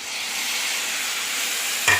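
Chopped tomatoes sauté in a hot pan for a prawn fry, giving a steady sizzling hiss throughout, with a brief stir or scrape near the end.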